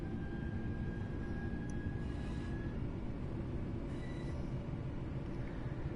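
Train Sim World 3 on PS5: a train shunting wagons gives a steady, loud rolling rumble, with thin metallic squeal tones rising briefly over it.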